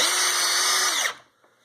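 Power drill whines steadily while driving a self-setting wood screw into soft wood, then slows and drops away after about a second, leaving near silence with a faint tap.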